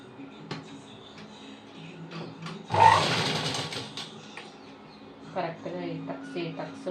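Sewing machine stitching tucks on a boat neck blouse, a short whirring run of rapid stitches in the middle, with someone talking before and after.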